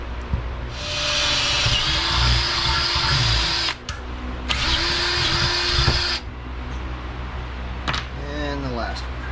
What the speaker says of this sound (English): we'll drill that hole first